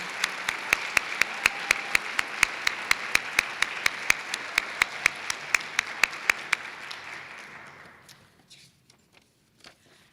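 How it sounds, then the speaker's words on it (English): Large audience applause at a nursing pinning ceremony: dense crowd clapping with sharp, regular individual claps standing out, fading away over the last couple of seconds into scattered claps. "they deserve another round of applause"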